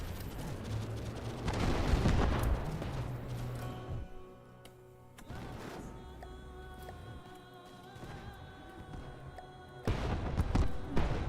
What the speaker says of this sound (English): I don't mind the explosions and whenever a vehicle is destroyed.